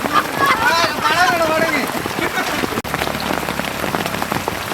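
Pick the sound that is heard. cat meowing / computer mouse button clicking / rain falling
rain falling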